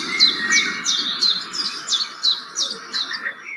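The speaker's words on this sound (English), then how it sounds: "That's birds. Everybody knows the sound of the birds" Birds chirping in a steady series of about seven quick, bright tweets at an even pace, fairly close and clear over a faint low background hum.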